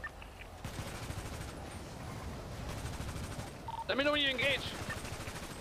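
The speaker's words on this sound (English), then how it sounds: "I'm shooting now." Rapid gunfire crackles at a distance in a GTA roleplay firefight, a steady stream of faint shots under radio-style voices, with one person speaking near the end.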